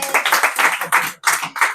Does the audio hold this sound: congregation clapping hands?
yes